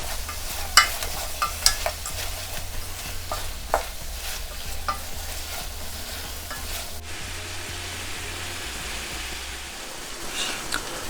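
A spoon scrapes and stirs chicken curry gravy in a sizzling pan, with irregular close clinks and scrapes over a steady frying hiss lasting several seconds, no voices.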